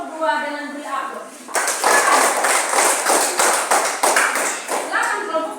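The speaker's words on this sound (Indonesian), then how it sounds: "Mari kita sambut kelompok 2 dengan beri aplaus" A classroom group claps for group 2 in a burst of applause that starts abruptly after a spoken introduction and stays loud and dense for several seconds. The clapping fades as a voice resumes at the end.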